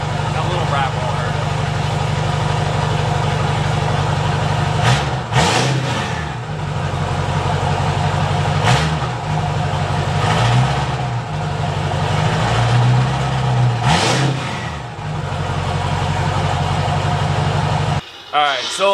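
A Ford 6.0 Powerstroke diesel truck engine, still cold, rumbles loudly through a new stainless bed stack, with several quick revs rising and falling over a heavy idle, close by.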